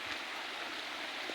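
A clean river stream flows steadily, producing a continuous broadband rush of moving water, fairly soft and even throughout with no voices.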